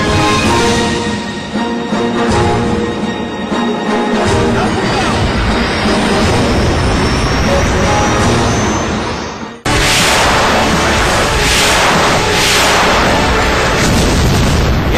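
Missile launcher attack on a Rafale fighter jet, a dense continuous roar of blasts and booming explosions, loud and unbroken, with a sharp cut midway into an even harsher burst of noise.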